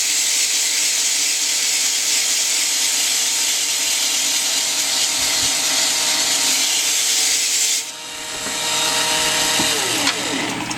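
A hobby blade carves foam for the nose of an RC Sukhoi Su-33 model with a loud, continuous hissing scrape that dips briefly near the end, then resumes. Nobody speaks.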